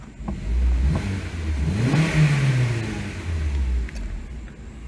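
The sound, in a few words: 2007 Honda Civic engine revving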